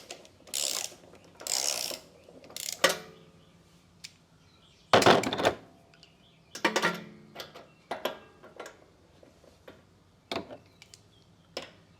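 A ratchet tightens the head bolts on a riding lawn mower engine, snugging them into aluminum in short bursts of rapid clicking close by, separated by pauses and lighter metallic ticks.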